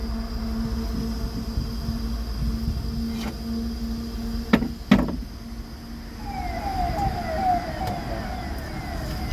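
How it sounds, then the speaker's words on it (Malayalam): A minister's convoy siren wails faintly in the distance over steady background noise, heard from inside a Bharat Benz truck cab, growing a little clearer toward the end. "ആംബുലൻസ് അല്ല, ആരാ? മിനിസ്റ്റർ രാജ പോയത്."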